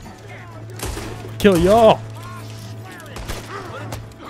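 Gunfire in Red Dead Redemption 2, a few sharp shots scattered across a busy scene with a steady low hum, under a shouting voice and other talk.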